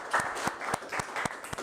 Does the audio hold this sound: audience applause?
yes